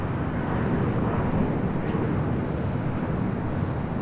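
A jet airplane takes off from runway 24 Left at LAX at dusk, producing a loud, steady, broad engine roar that stays constant and continuous.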